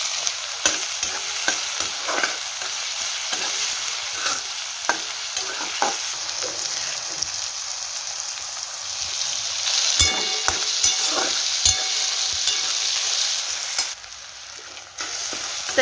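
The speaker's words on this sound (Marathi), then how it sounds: "कांदा टोमॅटो छान तळून घ्यायचं।" Onion and tomato frying in a tempering of hot oil for a drumstick (shevga) vegetable dish, with a steady close sizzle and repeated scraping stir strokes of a spoon in the pan, no talk.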